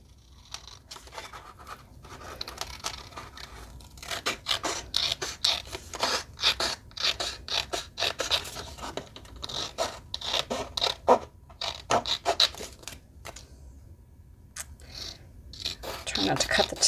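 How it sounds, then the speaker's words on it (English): Scissors snip through excess paper around a handmade craft tag, giving short, irregular cutting and rubbing sounds, close up and moderately quiet, with pauses between bursts. "I'm going to just cut out all of the excess."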